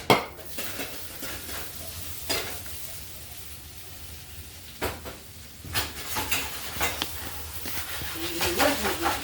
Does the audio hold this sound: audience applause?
no